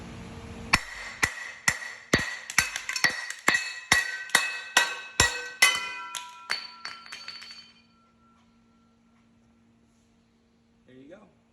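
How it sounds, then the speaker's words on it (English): A hammer drives a metal cover can through an upside-down Steelcase Gesture office chair base to remove a stuck gas cylinder, a run of about sixteen sharp ringing metallic strikes in steady rhythm that fade into near silence. "I'm gonna have the base upside down and hammer the cover can through the top of the base."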